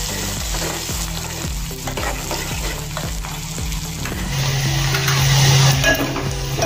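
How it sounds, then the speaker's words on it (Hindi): Finely chopped onion, mustard seeds and cumin frying in about two spoons of hot oil for a khichdi, a steady loud sizzle that swells louder midway, with light stirring against the pan and no voices. "तेल गरम हो गया है। राई डालेंगे आधा चम्मच, जीरा डालेंगे आधा चम्मच, प्याज डालेंगे बारीक कटा हुआ,"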